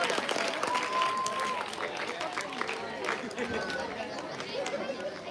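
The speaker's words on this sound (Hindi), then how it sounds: "तो एक बार अपने लिए जोरदार तालियां बजा दीजिए, जोरदार।" An audience at a school inter-house Hindi comic poetry gathering in Bhuj gives steady, dense applause with scattered chatter and cheering mixed in, sustained at an even level throughout.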